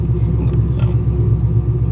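A supercharged LSA-powered fifth-generation Camaro drives along with a steady, deep engine rumble, close and continuous without any revving peaks.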